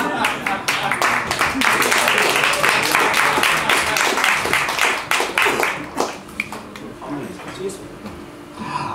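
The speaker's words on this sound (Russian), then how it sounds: "нельзя не сказать спасибо, когда аплодируют музыке" Audience applause following an instrumental jazz trio piece at a live concert, dense clapping filling the room steadily and tapering off toward the end.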